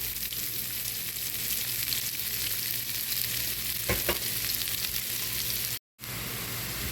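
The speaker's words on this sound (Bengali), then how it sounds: "এখন ওই তেলে আমি পেঁয়াজ এবং রসুন কুচি দিয়ে দিব" Chopped onion and garlic with a little turmeric sizzle steadily in hot oil left from frying a rohu fish head, a continuous close crackle with a couple of brief stirring scrapes and a short cut near the end.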